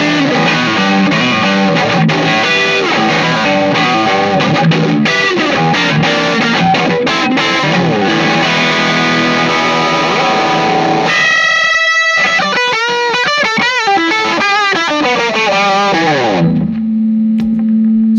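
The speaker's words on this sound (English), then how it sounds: "keeping it back here around noon, we still get a really heavy overdrive sound, which I think sounds pretty cool for some blues rock" An electric guitar played through a heavy overdrive pedal for blues rock chugs thick, distorted notes, then breaks into whining, wavering feedback tones before settling on a sustained hum; no voices.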